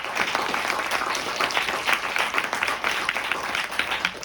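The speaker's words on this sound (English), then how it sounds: "if we can give a big round of applause" Dense, steady applause from a colloquium audience fills the room, a continuous wash of many hands clapping at close range with no pauses.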